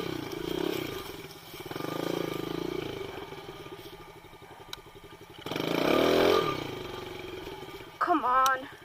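A dirt bike engine labours and revs in uneven surges, fading and swelling over several seconds before a sharp, rough burst near the end, with a voice talking over it.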